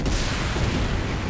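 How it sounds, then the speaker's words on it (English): A brief, dense roar of explosions, loud and continuous, like rumbling blasts from the game Chrono Cross. "Explosions!"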